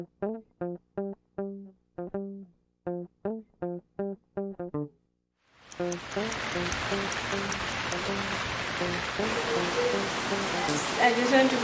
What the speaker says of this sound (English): The rain is so chilly.